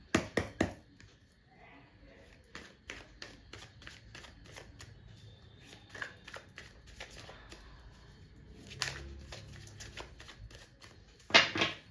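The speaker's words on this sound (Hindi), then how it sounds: "जब तक मैं कार्ड शफल कर रही हूँ" Tarot cards shuffled by hand in repeated crisp riffles and slaps, arriving in bursts of quick flutters with short pauses between and a louder final run of shuffling at the end, close and clear with no talking.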